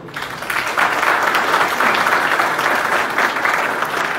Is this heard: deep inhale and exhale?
no